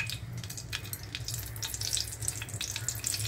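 Dried red chillies fry in hot oil with a steady, moderately loud crackle and sizzle, dotted with small sharp pops, continuing evenly throughout.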